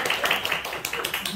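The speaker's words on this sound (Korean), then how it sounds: "박수 한번 주세요." A school audience gives a brief burst of clapping, a quick run of sharp claps heard fairly close.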